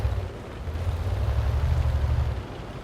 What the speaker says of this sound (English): More shells coming in.